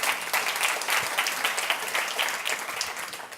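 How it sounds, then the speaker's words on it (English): Audience at a Montreal Forum event gives a warm round of applause, dense steady clapping from many hands throughout, fairly loud and continuous with no talk over it. "A little round of applause."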